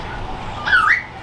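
A single harsh raven call rises briefly over quiet background noise, one short croaking squawk lasting under half a second.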